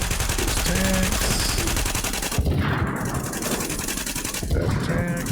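Rapid automatic gunfire in the video game The Division, with dense rattling bursts that dominate, a brief lull in the middle, then more shooting under a voice talking.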